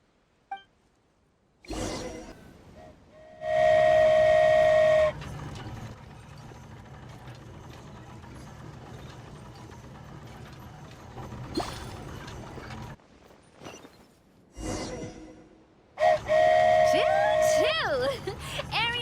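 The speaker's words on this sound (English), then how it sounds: "Choo-choo! Aerial Express moving out." The Aerial Express, a flying train in Genshin Impact, sounds two sustained whistle blasts, one early and one near the end. A steady rumbling engine runs between them.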